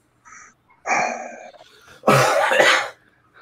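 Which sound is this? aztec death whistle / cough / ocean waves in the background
cough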